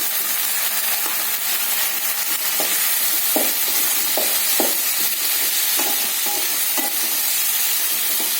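Tomatoes frying in a pan for bottle gourd gravy, a steady, close hiss of sizzling oil with soft, irregular stirring knocks of a spatula scattered through it.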